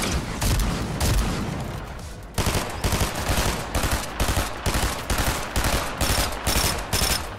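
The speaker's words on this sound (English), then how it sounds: "Now I have this other guy trying to snipe me." Rapid gunfire in a Fortnite match, a dense loud burst of continuous shots followed by a steady string of evenly spaced heavy reports, up close with no talk.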